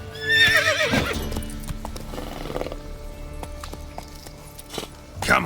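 Roach, the horse in The Witcher 3, lets out a loud whinny at the start, then trots with steady clip-clopping hooves that carry on evenly to the end.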